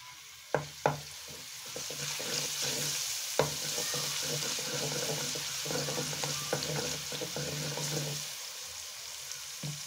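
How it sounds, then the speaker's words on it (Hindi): Crushed garlic frying in hot ghee for a haleem korma, a soft steady sizzle near the pan with a few sharp clinks of a spoon stirring early on, no talk. "लहसुन को हम अच्छी तरह से भून लेंगे कलर आने तक।"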